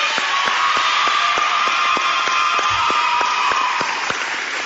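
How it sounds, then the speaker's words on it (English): A rally crowd at a college NAIA event claps continuously for a coach, a dense, even wash of applause with a few sharper individual claps standing out, fading slightly toward the end. "Let's give Tara another round of applause."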